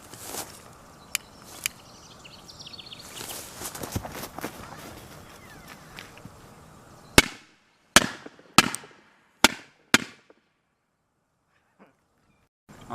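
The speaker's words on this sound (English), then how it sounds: "it's inside the shoebox, the lid pretty much closed. And I'm gonna be the classic" A small US firecracker set off with a lighter inside a shoebox with the lid nearly shut: rustling and handling noise first, then several sharp, loud pops in quick succession, each ending abruptly before near silence.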